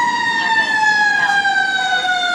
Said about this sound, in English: Ontario fires crossing paths with lights and sirens.